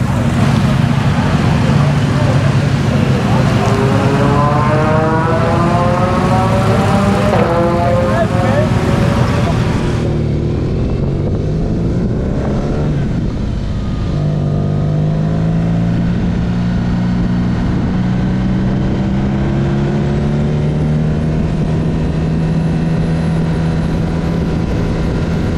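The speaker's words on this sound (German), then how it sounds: "Und ich konnte meine GoPro platzieren an dem Motorrad. Das heißt, wir fahren jetzt eine Runde Nordschleife mit Frank Hoffmann." A motorcycle lapping the Nordschleife, recorded onboard, roars loudly and continuously under wind rush. Its engine pitch climbs and falls through gear changes, then drops sharply around the midpoint before building again.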